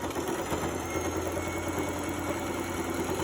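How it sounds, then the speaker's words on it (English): A sewing machine runs a shoulder seam at half-inch allowance, a steady close mechanical whir with a fast even needle rhythm throughout and no talking. "Go to the machine and sew with 1/2 inch seam allowance."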